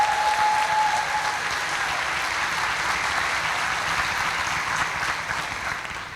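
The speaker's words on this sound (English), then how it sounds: "Let's give her another applause" An audience applauds at a school district convocation, a steady, even wash of clapping from a large crowd that holds for about six seconds and tapers slightly at the end.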